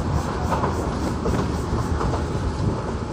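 A commuter train rolls along the rails in Bangladesh, heard from inside a carriage as a loud, continuous rumble with a steady clickety-clack of wheels over rail joints.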